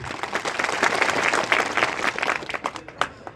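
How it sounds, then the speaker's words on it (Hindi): Loud, enthusiastic applause for a state minister at a political gathering in Rajasthan, a thick burst of clapping that swells briefly and then dwindles into a few separate claps. "महेंद्रजीत सिंह जी मालवीय के लिए एक बार जोरदार तालियां बजाएं"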